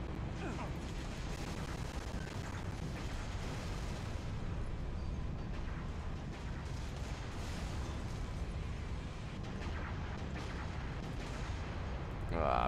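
Tank cannon fire and explosions rumble continuously in Halo: Reach, a dense, loud battle wash of heavy booms and blasts that never lets up, swelling again at the very end.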